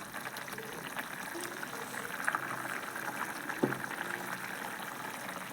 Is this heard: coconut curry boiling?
yes